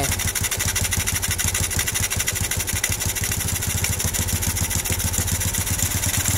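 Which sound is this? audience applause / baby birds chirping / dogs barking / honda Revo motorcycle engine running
honda Revo motorcycle engine running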